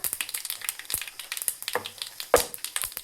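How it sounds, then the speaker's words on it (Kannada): Dried chilli pieces frying in hot tempering oil with popping mustard seeds, cumin and asafoetida for a coconut-free chutney, heard close as a steady crackling sizzle with rapid spits and a few sharper pops, with no talk. "ಸಾಸಿವೆ ಸಿಡಿದ ನಂತರ 1-2 ಒಣಮೆಣಸಿನಕಾಯಿ ಚೂರುಗಳನ್ನು ಹಾಕ್ಕೊಳ್ಳೋಣ."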